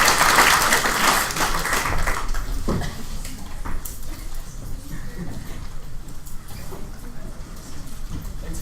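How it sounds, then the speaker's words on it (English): A room of debate-institute students gives a round of applause for the helpers, a dense spatter of clapping that is loudest at first and then continues more evenly for several seconds. "Let's give them a round of applause for all the help"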